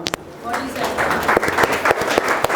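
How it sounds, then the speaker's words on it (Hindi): Audience clapping for Anu at a Hindi-language church sermon, a burst of hand claps that carries on with scattered sharp claps for a couple of seconds under a noisy room. "good job, clap for Anu"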